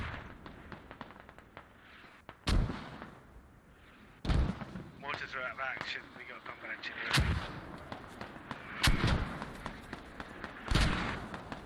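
Arma video game battle on the Kokan map, with heavy booming gunshots and artillery-like blasts fired at irregular intervals amid a crackling rumble, while a voice speaks briefly between shots.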